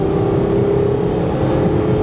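Stock 2004 Range Rover L322 TD6 Vogue with the M57 2.9-litre diesel accelerating hard to overtake, a steady loud engine drone and road roar building evenly from inside the cabin, with no voices.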